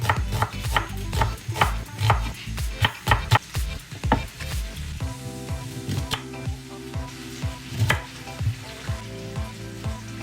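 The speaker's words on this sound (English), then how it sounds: "I'm gonna roughly chop an onion." A knife roughly chopping an onion on a cutting board, a rapid series of sharp, close chops in the first half, then slower scattered cuts over a steady sizzle of oxtail frying in a pot nearby.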